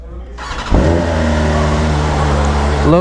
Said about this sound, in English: Let me start all the bikes for you guys.